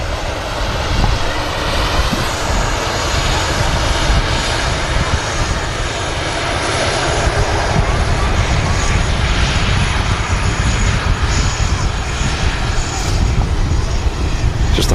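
A fixed-wing airliner at Manchester Airport roars steadily and loudly for the whole stretch, a broad continuous engine rumble with no break.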